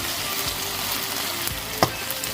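Sardines frying in a pan with cooked garlic and onion for pancit bihon, a steady loud sizzle with a sharp clatter near the end and no talk.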